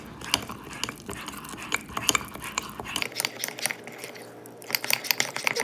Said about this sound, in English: so those are all the main ingredients, and I'm going to mix it together